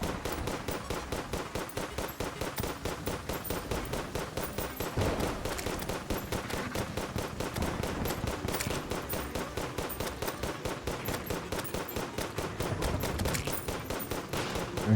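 Rapid, dense gunfire-like shots from an enemy eye creature in the video game Terraria, a relentless machine-gun rhythm of loud, evenly spaced bursts filling the whole stretch without any talk.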